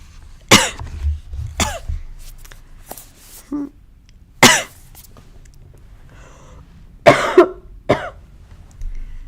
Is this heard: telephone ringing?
no